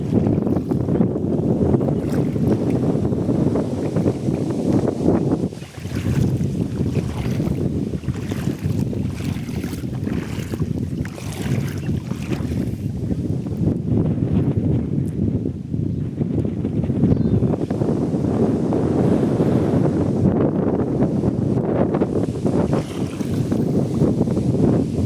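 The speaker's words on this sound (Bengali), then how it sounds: "ঝোড়ো হাওয়া বইছে আর কি" Strong, hot wind blows continuously beside a nearly dry river in Madhya Pradesh, buffeting the microphone with a loud, steady roar that surges and dips briefly, with no speech.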